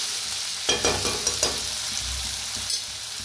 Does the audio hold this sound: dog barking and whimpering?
no